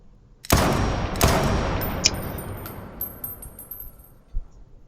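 Gunfire in an anime fight scene as a character draws a gun: two sharp loud shots with long decaying tails, followed by a faint click and a later distant thump.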